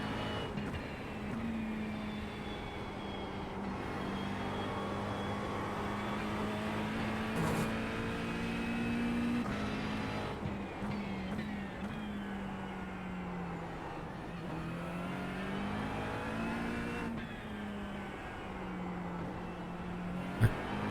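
A racing car engine drones steadily in a sim racing game driven with a direct-drive wheel, the pitch rising and falling with shifts and corners, sustained and moderately loud throughout.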